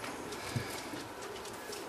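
Racing pigeons coo steadily in a loft, a low soft murmur from several birds continuing throughout with one slightly louder coo near the start.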